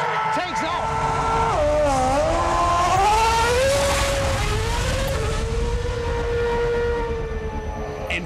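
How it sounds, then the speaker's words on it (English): A Formula 1 racing car accelerates hard, its high-pitched engine note climbing and shifting through gears, loud and sustained before easing off at the end. "In just a handful of seconds, an F1 car accelerates to the kinds of speeds at which a jet aircraft takes off"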